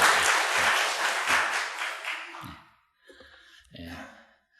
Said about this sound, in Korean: 우리 같이 한번 박수해 주시고